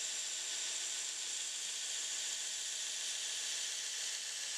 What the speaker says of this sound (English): I'm just back on the belt grinder, coarse grit belt, and I'm going to profile the scales